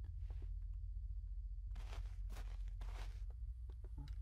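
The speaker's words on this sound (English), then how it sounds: "Those are some loud ass footsteps." Heavy footsteps in the horror game Last Bus Home, several bursts of thudding steps over a low dark droning rumble, fairly close and loud.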